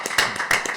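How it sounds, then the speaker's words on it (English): Brief burst of a few sharp, close handclaps from an audience at an interview with CEO Fields, lasting under a second with no talk over it. "Let's clap for my man, CEO Fields."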